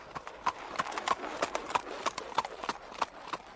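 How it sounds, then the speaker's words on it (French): A thin horse sets off pulling a cart, its hooves clip-clopping in an even, moderately close rhythm of distinct knocks, with a voice speaking faintly underneath. "Puis il lançait un « Cocotte !» qui remettait en route son maigre"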